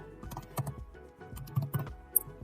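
Keys clatter on a computer keyboard as a git checkout command is typed, a quick run of close, crisp clicks with a few sharper strokes, with no talking.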